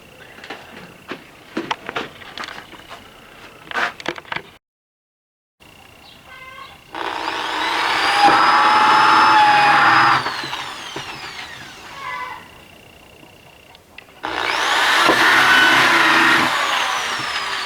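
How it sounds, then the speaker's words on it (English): A power drill bores holes in wood for hanging tomato supports. Two long, loud whining runs come after a stretch of scattered handling clicks and knocks, heard close with no talk. "we've got all the holes drilled in it that way on both sides"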